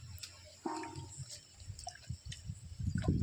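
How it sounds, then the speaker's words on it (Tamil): Water is lightly sprinkled over freshly sown vegetable seeds, including pumpkin, planted in coconut husk, giving soft, faint drips and splashes in short scattered bursts that grow a little busier toward the end. "லேசாக தண்ணி தெளிச்சிடுறோம்."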